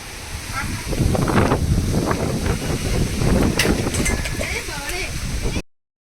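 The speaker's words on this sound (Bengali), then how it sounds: "হাওয়া দিচ্ছে" Strong gusts of a Kalbaishakhi storm buffet the microphone in loud, rumbling bursts, with a voice speaking over the roaring wind.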